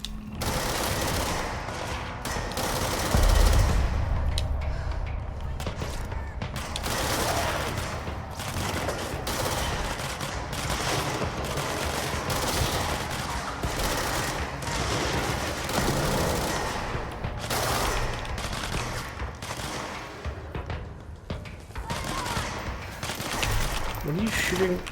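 Sustained rapid gunfire in the video game Control, with dense automatic bursts and heavy booming impacts running almost continuously at high volume, voices speaking over the shooting.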